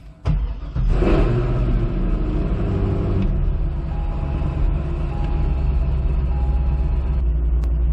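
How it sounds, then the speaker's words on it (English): A 2005 Chevy Corvette engine cranks and fires up after fuel system work, catching with a quick roar and then settling into a loud, steady, close idle rumble. "the car seems to be firing up, the fuel pump seems to be working"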